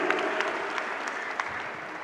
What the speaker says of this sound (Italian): un applauso per il dottore